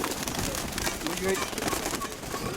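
Pigeons at a market fair, including an old breeding pair, give soft cooing calls that sit faintly under people talking and general crowd noise.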